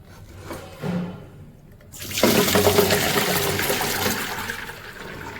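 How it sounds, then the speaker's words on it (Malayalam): Water from boiled chickpeas poured through a strainer net, a steady close gush of draining liquid that starts abruptly and runs on loudly. "ഇനി നമുക്കിത് നെറ്റിലോട്ടിട്ട് ഇതിനകത്തുള്ള വെള്ളമെല്ലാം കളയാം."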